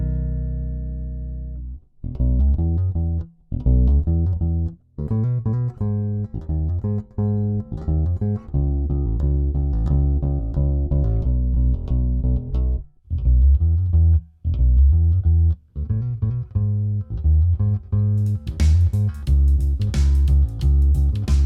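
A bass guitar with an EMG TBDC active pickup, Thunderbird-shaped on the outside with a DC soap bar inside, fitted to a Rickenbacker, plays a busy run of notes for about twenty seconds with a few short breaks, loud and alone.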